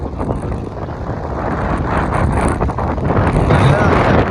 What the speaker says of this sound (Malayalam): അത് പറന്നു പോണ രീതിയിലുള്ള കാറ്റും കാര്യങ്ങളൊക്കെയാണ് ഇവിടെ അനുഭവപ്പെട്ടുകൊണ്ടിരിക്കുന്നത്.